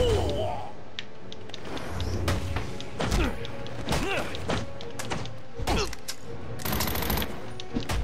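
Gunfire in the video game Batman: Arkham Origins, scattered loud shots and heavy thuds in irregular bursts, mixed with combat impacts and occasional voices.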